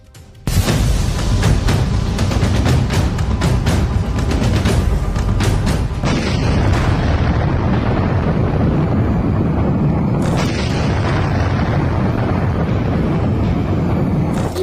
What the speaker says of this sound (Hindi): ऐसा धमाका जिसकी शॉक वेव में ढह गया एक बड़ा इलाका।